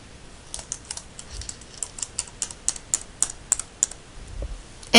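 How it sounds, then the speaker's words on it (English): A password is typed on a computer keyboard: a close, crisp run of about a dozen key clicks at an uneven pace over quiet room tone, ending in a louder click. "we proceed down here to the bottom and we put in our password"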